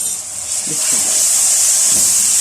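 Constant high sizzle of garlic frying in hot oil, with a few soft clinks from stirring.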